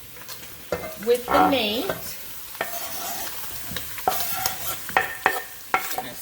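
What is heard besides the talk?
chopped garlic sautéing with meat in a pan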